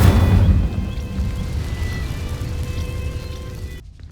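A fire spell in Hogwarts Legacy ignites dry vines with a loud whooshing burst at the start, then settles into a steady crackling, rushing burn that fades out abruptly.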